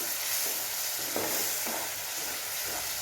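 Tamarind water bubbles and sizzles steadily as it simmers and thickens in a pan, with soft stirring scrapes now and then, close and fairly quiet.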